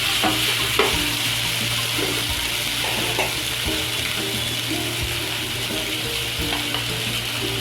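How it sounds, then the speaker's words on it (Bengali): Steady loud sizzle of chopped onion frying in a pan, with scraping stirs and clinks of a utensil throughout; no one speaks. "পেঁয়াজ কুচি দিয়ে দিলাম,"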